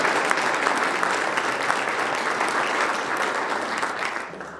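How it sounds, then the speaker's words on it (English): A chamber of commerce luncheon crowd gives a loud, dense round of applause for the sponsors, sustained throughout and tapering slightly at the end. "Let's give them a round of applause."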